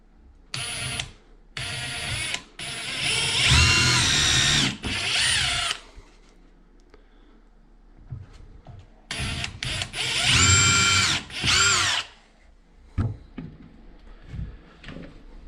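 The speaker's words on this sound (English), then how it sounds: "I think I have like a little 1/8 drill bit" A power drill runs a 1/8 inch bit through cherry live edge wood for a floating shelf, in two long whining bursts with short stop-start triggers between and after, loud and close with no talking.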